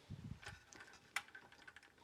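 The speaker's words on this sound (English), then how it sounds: "let's just start pulling all of these keys off" Keycaps being pulled off a vintage TRS-80 Model 1 computer keyboard, giving quiet, close plastic clicks and snaps in an irregular run, with one sharper pop near the middle.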